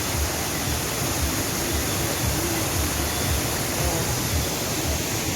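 Annandale Waterfall in Grenada roars with a steady, dense rush of falling water at close range, and a single brief voice is heard.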